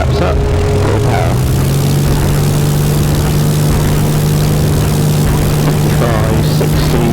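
Light aircraft engine run up to full power for takeoff with flaps up: a loud, steady propeller drone that climbs slightly in pitch and then holds, with a voice talking through it.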